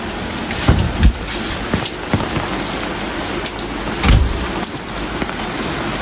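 Heavy typhoon rain pours down in a dense, constant hiss, with occasional louder thumps and splashes of drops hitting nearby surfaces.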